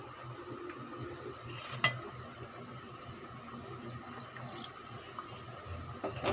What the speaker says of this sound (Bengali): এখন দিয়ে দেবো কুসুম গরম পানি।